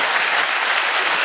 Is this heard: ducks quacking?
no